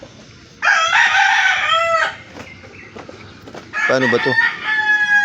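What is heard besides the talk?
birds at a backyard breeder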